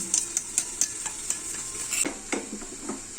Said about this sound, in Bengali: কর্নফ্লাওয়ারটা আমি জল দিয়ে ভালো করে গুলে রাখছি